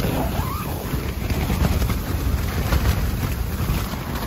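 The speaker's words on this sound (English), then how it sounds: "At this point, I'm more just worried that the wind is going to tear my tent." Strong winter storm wind roaring against a snow tent during solo camping, a loud, continuous, buffeting rush with heavy gust noise on the microphone, no speech.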